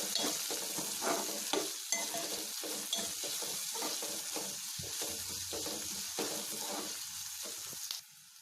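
Mint leaves are stirred and fried in a pan for a bitter gourd masala curry, with a steady close sizzle running under repeated scraping and stirring strokes throughout and no talking.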